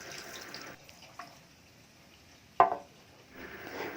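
Rinse water poured off mung beans in a kitchen: a faint, soft splash and trickle with one sharp clink midway and a slightly louder wash of water at the end.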